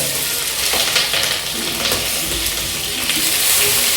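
Garlic and ginger frying in a pan with onion to follow, a steady loud sizzle with crackling bursts and occasional scraping stirs throughout, no talking.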